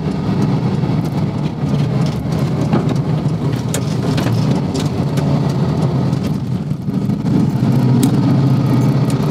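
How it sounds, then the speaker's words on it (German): Inside a moving VW T1 Samba bus: a loud, steady mix of engine drone, road rumble and rattling cabin noise that persists without pause. "Man hört ja jetzt schon so die Akustik in dem Auto"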